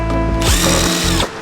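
A power drill spins up loudly and steadily for about a second while unfastening the rear fenders of a Nissan S15, with rattling and handling sounds just before and after.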